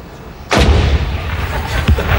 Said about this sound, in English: every day a cannon is fired at 1 o'clock